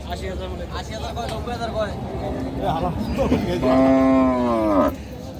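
A heifer moos loudly in one long drawn-out call at a large cow market in southern Bengal, with crowd chatter and people talking throughout.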